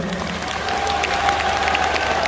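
Audience applause at a motivational seminar, a steady, moderately loud wash of many hands clapping that continues evenly for the whole short clip.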